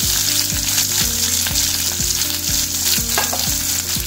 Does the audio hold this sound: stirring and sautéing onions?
yes